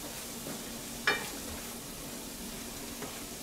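Tomato pizza sauce with fresh basil leaves being stirred in a pan, a steady low sizzle and faint scraping running throughout, with one sharp utensil clink near the start and another softer tap later.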